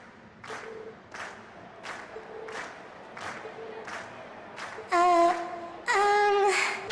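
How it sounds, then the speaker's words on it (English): A crowd cheers in short repeated bursts after a concert performance in The Legend of Heroes: Trails of Cold Steel, then two louder, sustained roars with synthetic tonal overtones, like game-style crowd audio. "we've heard your cheers loud and clear"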